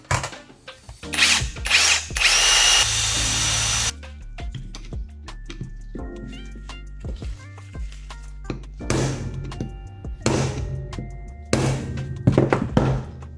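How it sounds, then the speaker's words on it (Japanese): A power drill bores out a crimped fastener on a Chinese-made replacement part for a Honda NSR250R MC18 motorcycle restoration, loud whirring bursts alternating with pauses, clicks and clunks of the part being handled, no talk. "とりあえずドリルで揉んでこれを外してみたいと思います"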